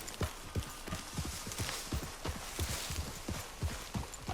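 Horse hooves thud at a walking pace in Red Dead Redemption 2, an even rhythmic series of close, moderately loud footfalls with no talk over them.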